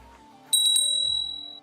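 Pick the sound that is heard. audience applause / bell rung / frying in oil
bell rung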